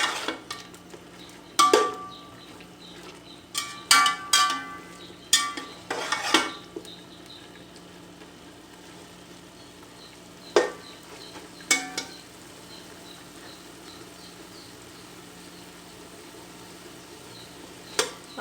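Chicken pilaf cooking in a pan over high flame, with scattered metal utensil clinks and scrapes against the pan, separated by quiet stretches of low sizzle.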